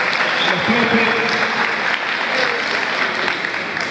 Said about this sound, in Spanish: Un aplauso para los menucos también